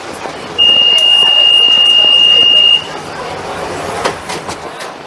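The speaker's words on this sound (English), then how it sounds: "This is a Central Line train to Epping." London Underground Central Line train running, a steady rumble and clatter of the carriage with a long high beeping tone for about two seconds, then continued rattling and clanks near the end.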